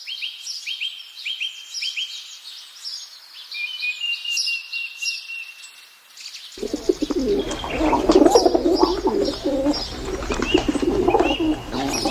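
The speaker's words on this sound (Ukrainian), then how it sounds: "А у весняному гілі дерев милується пара голубів." A pair of pigeons coo in soft, repeated phrases among spring trees in the Khmelnytskyi botanical garden, alongside scattered bird chirps, with a burst of wing flapping and rustling partway through.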